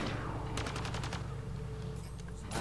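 Rapid sniper and automatic gunfire in the sci-fi shooter Mass Effect: Andromeda, a dense burst of sharp cracks over a constant low battle rumble, lasting the whole moment with no talk.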